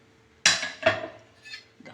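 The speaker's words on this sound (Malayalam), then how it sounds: "ഇപ്പം ഞാൻ കുക്കർ തുറക്കുകയാണ്." A pressure cooker lid is opened after cooking rice: two sharp metallic clanks close together, then lighter clinks of metal fading off in a quiet kitchen.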